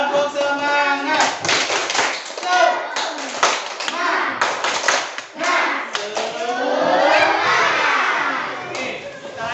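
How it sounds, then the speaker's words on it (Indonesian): A group of children claps a rhythmic 'tepuk semangat' chant, loud and close, with bursts of patterned hand claps mixed with shouted chanting voices throughout. "biar semangat kita tepuk semangat dulu ya"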